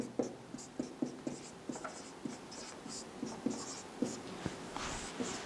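Chalk or marker taps and scratches on a board as a chemistry example is written out, a close run of short irregular strokes with no talk.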